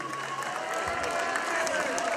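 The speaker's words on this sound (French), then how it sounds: "applaudissements pour Monsieur Fielding" An outdoor festival crowd applauds a Johnny Hallyday lookalike performer, with steady clapping mixed with crowd murmur and scattered voices talking through it, and a faint tonal hum underneath.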